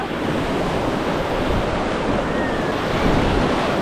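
Rushing river rapids heard while rafting downstream, a steady, loud broadband roar of churning water with wind buffeting the microphone throughout, no voices.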